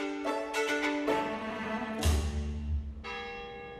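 A church bell in Hancock, New Hampshire, rings out in several clear, resonant strikes that overlap and hang in the air, loud and close with a sustained ringing tail.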